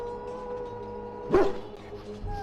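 A dog in the fantasy role-playing game Dragon Age: Origins gives a single short bark or yelp over a steady low hum of game ambience, brief and moderately near, with no talk.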